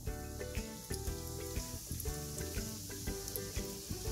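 Chilli peppers fry in hot oil with a steady bright sizzle and crackle, set against a rhythmic pulsing backing music track that plays throughout.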